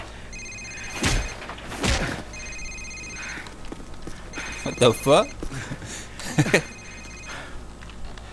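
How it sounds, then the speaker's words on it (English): A cell phone rings in Call of Duty 4 on a safehouse mission, with repeated bursts of electronic ringing over game sounds, thuds and spoken lines from characters. "It's his cell phone."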